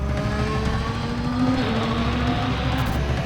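A Formula 1 car engine drones steadily at high revs, its pitch shifting slightly as it passes, loud and continuous with no talk.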